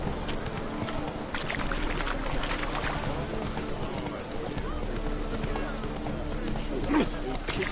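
The horse Roach galloping in The Witcher 3, a rapid rolling clatter of hooves running steadily beneath a voice speaking over it.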